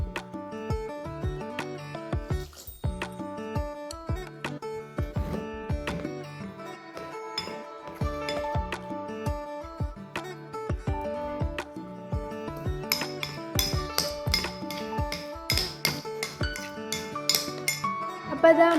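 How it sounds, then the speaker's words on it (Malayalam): A spoon stirs batter with baking soda and water in a bowl for stuffed dates, with a steady run of close, bright clinks and scrapes against the bowl throughout, no talking. "ഇനി ആവശ്യത്തിന് വെള്ളവും ഒഴിച്ച് നന്നായി മിക്സ് ചെയ്തെടുക്കാം."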